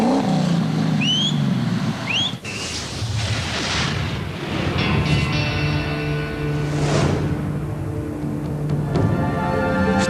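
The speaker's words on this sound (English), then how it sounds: "He's got it in gear, the tyres are struggling for grip on the mud, but then eventually it fires into life." A Dakar 2009 rally truck on a muddy stage catches after a bump start. Its engine bursts into a loud, rough, sustained roar with churning low rumble, and brief bird chirps sound faintly at the start.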